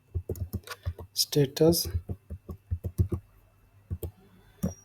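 A command is typed on a computer keyboard as a rapid run of crisp, close key clicks, with a brief stretch of speech in the middle and a few scattered taps at the end.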